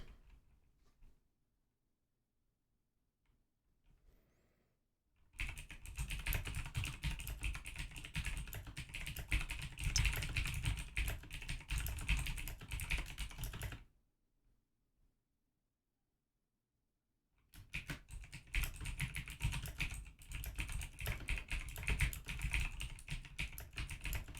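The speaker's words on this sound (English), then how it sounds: "let's finish typing here" Rapid clicking of fingers typing on a computer keyboard comes in two sustained bursts separated by a few seconds of near silence, close and fairly quiet, with no talk.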